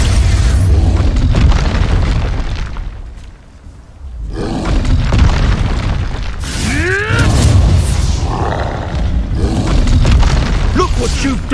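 Expulso spell explosions in the video game Hogwarts Legacy, loud booming blasts with roaring debris, a brief lull near the middle, then more heavy bursts and swirling magical whooshes, with voices shouting amid the chaos.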